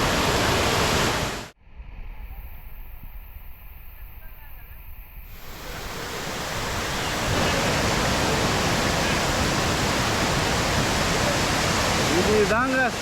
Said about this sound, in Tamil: இந்த இடம் சுழல் மாதிரி இருக்கு, சுற்றினே இருக்கிறான் தண்ணி.